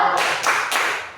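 A class of schoolchildren doing a rhythmic thumb clap in a classroom, three quick loud group claps with a busy, reverberant wash of many hands.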